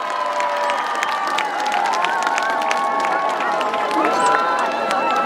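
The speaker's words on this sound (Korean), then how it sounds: "여러분들 뜨거운 박수 한번 부탁드리겠습니다" An outdoor crowd at the Yangsan Ungsang Hoeyaje festival applauds and cheers for a trot singer, a steady wash of clapping and shouts with voices rising above it throughout.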